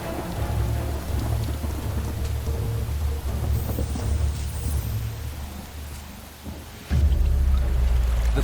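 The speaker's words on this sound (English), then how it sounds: "Daily thunderstorms tear across Luangwa's skies." Summer thunderstorm over the Luangwa River valley in Zambia: steady, heavy rain pours down under deep rolling thunder, with a louder, closer rumble breaking in near the end.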